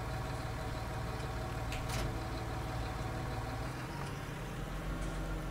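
A tractor engine idles in the farming game Farming Simulator 19, a steady low rumble that holds evenly throughout with no talking over it.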